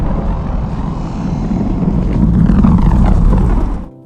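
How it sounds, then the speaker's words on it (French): Aircraft engine noise from a plane arriving on Réunion island, a steady loud roar with a low rumble that swells midway and then cuts off abruptly near the end, with no voices. "tu prends l'avion et tu atterris sur l'île de la Réunion"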